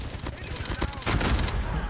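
Rapid Peacekeeper MK2 gunfire in the video game Call of Duty Mobile, a loud, dense stream of close shots that grows heavier toward the end, with speech mixed over the firing.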